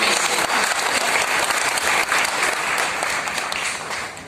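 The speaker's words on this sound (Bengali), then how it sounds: "প্লিজ একটা জোরে হাততালি সবাই" Loud, sustained applause from a crowd at a YouTube creators' event in Kolkata, a dense wash of clapping that holds steady for several seconds and fades slightly at the end.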